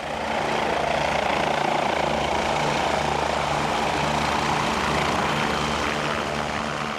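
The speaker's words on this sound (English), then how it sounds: "As we watched the chopper lift off" A rescue helicopter lifting off nearby, its engine and rotor roaring loud and steady with a rhythmic blade throb, no voices over it.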